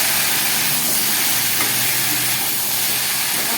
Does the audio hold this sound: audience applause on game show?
no